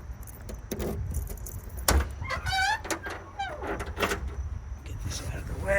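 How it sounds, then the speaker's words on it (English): Keys jangle and clink near at hand as someone grabs them by a 1987 Buick Regal project car, with a few short metallic jingles, car door and window noises, and a voice speaking over them. "I'm just gonna grab the keys here."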